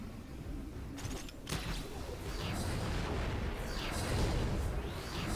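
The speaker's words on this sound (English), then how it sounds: "Two shots." Gunfire from a Warframe video game firefight featuring Banshee Prime, with heavy booming shots and blasts layered over a dense, continuous roar of game noise, fairly loud throughout.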